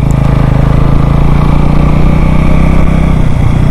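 A Keeyway Superlight motorcycle engine runs under light throttle, a loud, steady, close-up chugging drone that barely rises or falls throughout.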